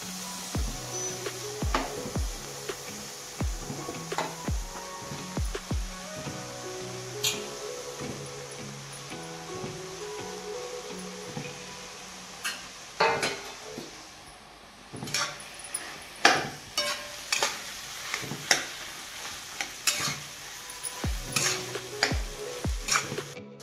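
Potatoes go into a pan of red chutney spiced with ginger-garlic paste, followed by a long stretch of stirring. Spoon scrapes and knocks against the pan repeat irregularly over a soft, steady sizzle.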